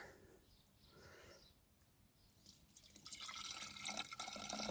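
Deionized water trickles and splashes into the coolant system of a Mini One during an antifreeze flush, faint at first and then growing into a louder, steady pour.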